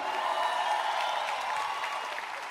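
Concert crowd applauds a guitarist at a live show at the Oeiras Cool Jazz Festival, a steady, dense wash of clapping held at even strength throughout.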